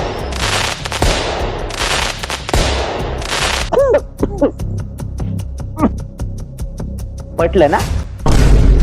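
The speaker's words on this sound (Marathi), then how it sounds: "अरे नको लाव, फटाके नको." Diwali firecrackers burst in loud rapid strings and separate sharp bangs, some close and some further off, while people talk in between.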